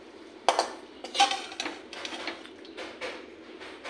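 Utensils serve a bottle-gourd-stem and sweet potato vegetable dish into a bowl, making a string of close, bright metal clinks and light scrapes at an uneven pace.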